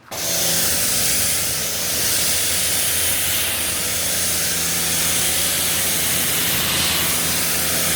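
A pressure washer sprays pre-wash off a car, a loud, steady hissing roar of water jet that starts abruptly and holds constant without pause.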